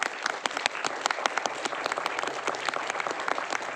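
An audience at an event with A.R. Rahman on stage claps along, distinct individual hand claps standing out over a softer crowd wash, moderately quiet and uneven in rhythm.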